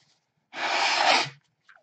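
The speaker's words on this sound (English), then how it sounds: "you have to pardon me blowing my nose." A person blows their nose in one close, forceful blast lasting under a second, framed by near silence.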